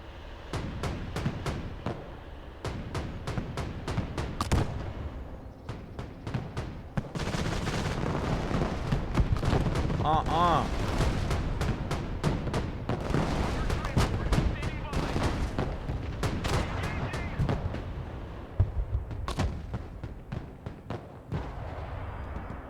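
Artillery fire in the Broken Arrow war game: dense, repeated booms and blasts roll over one another for a long stretch, loud and continuous, with voices talking faintly underneath.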